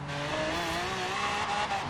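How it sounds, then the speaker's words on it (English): A V12 Lamborghini engine in a Charger Daytona build from Forza Horizon 3 drones on steadily, its harmonics climbing slightly as it revs, loud and close, with a hint of tire noise. "After hearing this motor, I'm gonna say Lamborghini"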